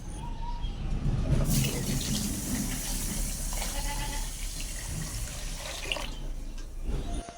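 Water runs and splashes into a pot in a home kitchen to soak rice, a continuous gushing pour with a brief louder surge early on, close by, with no talk.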